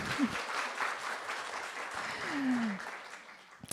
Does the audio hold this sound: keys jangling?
no